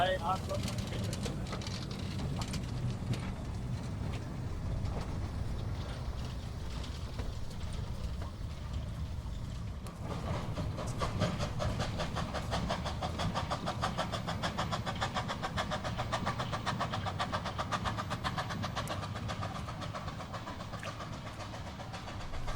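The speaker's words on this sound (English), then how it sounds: "doing demonstration runs along the narrow gauge railway here at Beamish" A narrow gauge steam locomotive chugs steadily at Beamish with a continuous rumbling engine and rhythmic exhaust beats, fairly close, with some background voices mixed in.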